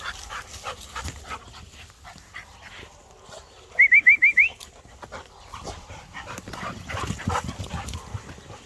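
During bird dog training outdoors, a dog lets out a quick run of about five sharp yipping barks midway through, set against faint rustling and low background noise.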